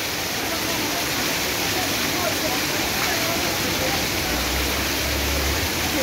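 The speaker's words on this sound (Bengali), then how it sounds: "দেখেন কিভাবে নামছে বৃষ্টি।" Heavy nighttime rain pours down in a steady, dense broadband hiss outside a shop during a storm, loud and constant throughout with no break.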